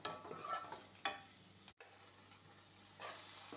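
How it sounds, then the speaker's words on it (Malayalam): Onion, green chilli, curry leaves and garlic cloves sauté in a pan, giving a faint, low sizzle broken by a few soft scraping stirs and a brief clatter, with no talking. "അതിനകത്ത് ഉള്ളി, പച്ചമുളക്, കറിവേപ്പില, 2-3 വെളുത്തുള്ളി അല്ലി ഇത്രയിട്ട് ഒന്ന് വാട്ടിയെടുക്കുക."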